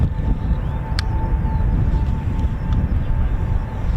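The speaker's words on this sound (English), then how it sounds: "Here comes the Typhoon for a low approach." A Eurofighter Typhoon FGR4 jet making a low approach at RAF Coningsby, a steady deep engine roar and rumble that holds loud and even throughout, with a faint tonal whine above it.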